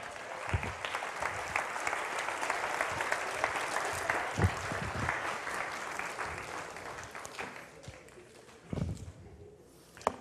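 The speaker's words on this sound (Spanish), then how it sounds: "Dale un aplauso al Señor, amén." A church congregation applauds during a sermon, a sustained dense clatter of many hands that carries on for several seconds and then thins out toward the end.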